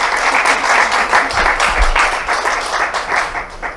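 Conference audience at a spine medicine event in New Delhi giving a sustained round of applause, steady and dense throughout, close and fairly loud.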